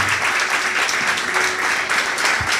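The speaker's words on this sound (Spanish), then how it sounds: "Dale un fuerte aplauso al Señor." Church congregation applauding during a Spanish-language worship service, a dense, steady wash of many hands clapping at close range without a break.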